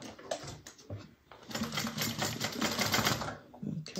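A sewing machine runs in bursts as it stitches the pieces of a Joseph bag, with quick mechanical rattling that pauses and restarts several times, close and fairly loud with no talk.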